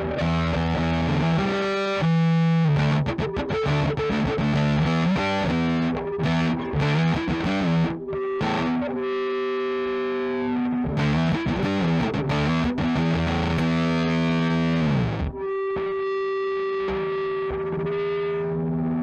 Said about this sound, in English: What about distortion?